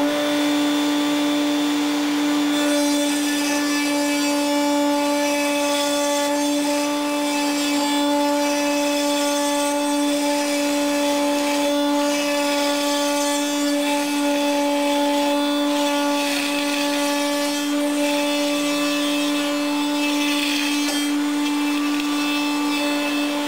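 A router bit on a router table cuts a loose-tenon mortise into the end of a wood piece, a loud, sustained high whine with steady tonal hum and shifting grinding texture throughout.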